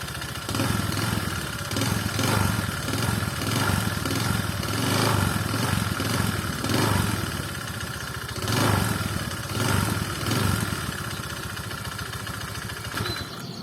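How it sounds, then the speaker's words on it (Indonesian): A Honda Vario 125 scooter engine idles steadily with a recurring ticking knock, a continuous mid-level mechanical drone with faint rhythmic clatter running throughout. "Suara mesinnya ketika stasioner ada klek-klek-kleknya, kemudian ketika digas tambah ada suara klek-kleknya pula"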